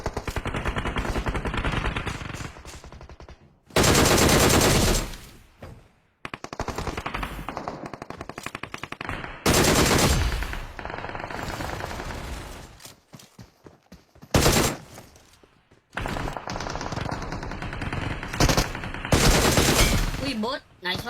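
Automatic gunfire from a red gun in a shooting video game, loud sustained bursts of rapid shots repeating in several long volleys with short pauses between, up close.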